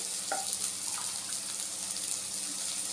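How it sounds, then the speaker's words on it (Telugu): Water pours steadily into a pot for cooking biryani rice, giving a continuous splashing gush at moderate volume with a few faint clinks underneath. "రెండు గ్లాసులు బియ్యానికి మూడున్నర గ్లాసులు నీళ్ళు పోసుకోవాలి"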